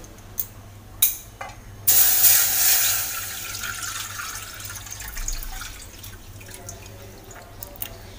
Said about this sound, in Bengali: ওই পাত্রেই আমরা দুধটা মিশিয়ে দিচ্ছি।